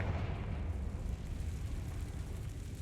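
A Confringo blasting curse explodes in Hogwarts Legacy, a deep rumbling blast with a low boom that holds steady before slowly fading.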